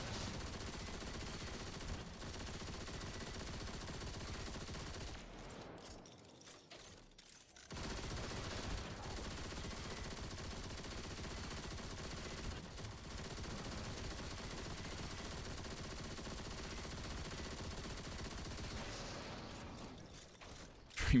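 Sustained rapid automatic weapon fire from the Unwavering Duty gun in a Destiny Trials match, loud and dense, with a brief lull partway through before the shooting resumes.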